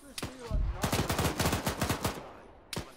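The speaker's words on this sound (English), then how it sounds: "Sparky, stop firing, mate." A close, loud burst of rapid automatic gunfire fires in quick succession during a video game battle, with a single sharp shot before the volley and another afterwards.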